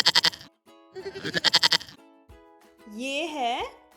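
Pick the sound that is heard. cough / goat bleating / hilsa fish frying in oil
goat bleating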